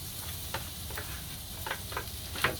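Onion softening in a frying pan for a Cornish pasty, a soft even sizzle with a few light clicks and stirring ticks scattered over it, close but fairly quiet.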